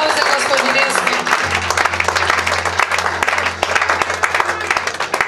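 A church congregation at a Sunday service claps steadily and loudly in a broad, continuous wash of applause, with a low organ-like drone and speaking voices mixed in.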